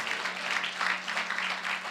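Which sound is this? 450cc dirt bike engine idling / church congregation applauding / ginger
church congregation applauding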